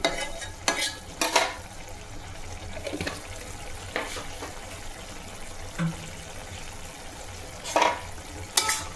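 Ash gourd shukto finished with a little ghee is stirred in a pan, giving intermittent scraping, clattering strokes over a low, wet simmer, close and fairly quiet.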